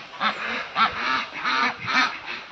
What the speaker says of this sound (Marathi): त्यानंतर अशा प्रकारे हे इंडियन रनर डक्स आहेत